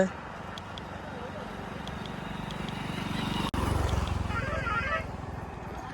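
A third-generation KTM Duke 250 motorcycle engine runs with a steady, buzzing drone, close by, broken by a sudden split-second cutout midway before it carries on.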